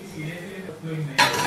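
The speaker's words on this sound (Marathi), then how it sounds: "आता याच्यावरती झाकण ठेवते" A metal lid is set onto a cooking pan of softened tomatoes and oil on the stove. Faint kitchen clatter ends in a bright, close metallic clink.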